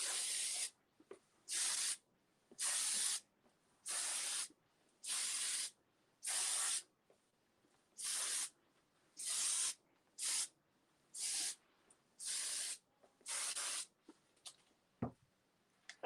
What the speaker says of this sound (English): So notice that I'm just opening up and spraying into her hair.